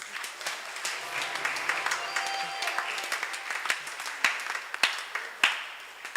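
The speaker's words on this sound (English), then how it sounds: "can we give another round of applause?" A congregation at a Sunday service gives a round of applause, a steady wash of clapping with sharper individual claps growing more distinct toward the end.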